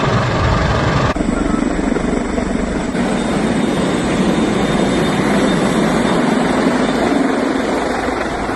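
A helicopter flies overhead at an Israeli scene after a drone attack, where ambulances are gathered. Its loud, steady rotor and engine roar goes on without a break, with voices faintly beneath it.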